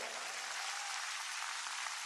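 An audience at a business event gives a round of applause, heard as a faint, even wash of distant clapping with no individual claps standing out.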